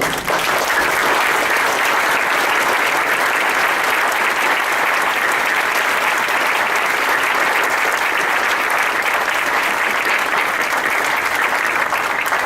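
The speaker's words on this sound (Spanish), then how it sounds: "Creo que vale un aplauso para el diputado." An audience at a book presentation applauds a congressman with loud, sustained, dense clapping that holds steady for over twelve seconds with no letup.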